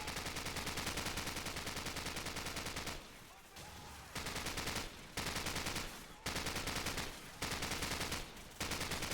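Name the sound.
machine gun fire in the video game Call of Duty 4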